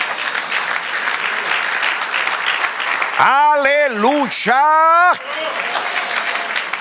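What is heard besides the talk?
church congregation applauding the Lord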